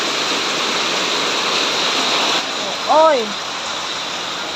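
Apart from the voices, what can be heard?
heavy downpour of rain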